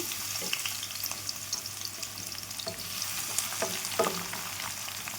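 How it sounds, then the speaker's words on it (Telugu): Close, steady frying of onions and green chillies in hot oil, a dense crackling sizzle with occasional stirring clicks and no voices. "ఆయిల్ హీట్ అయిన తర్వాత ఒక ఆనియన్స్ ఫోర్ పచ్చిమిర్చి వేసుకుందాం"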